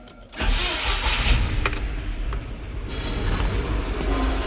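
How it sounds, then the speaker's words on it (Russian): A UMZ-4216 Evotech 2.7 engine, oil just poured into the first cylinder, cranks and catches after a short pause, then settles into a loud, close, steady rumbling idle. "Запускают двигатель."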